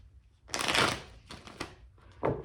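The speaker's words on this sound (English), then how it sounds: "Shuffle a little bit." Tarot cards shuffled by hand in a few quick riffling bursts, one long rustle followed by two shorter ones, close and fairly quiet with no talking.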